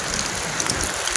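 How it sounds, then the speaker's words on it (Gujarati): Heavy rain comes down outdoors as a dense, even hiss of drops on surfaces. It is loud and continuous, with a few louder spatters and no talk. "જો આવ્યો ને વરસાદ ફાસ્ટ"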